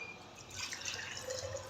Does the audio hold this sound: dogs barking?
no